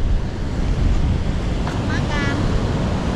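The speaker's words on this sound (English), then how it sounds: "look at these waves" Ocean surf rolls steadily onto the beach at Pantai Depok near Yogyakarta, Indonesia, a continuous loud wash of breaking waves with wind buffeting the microphone and no speech.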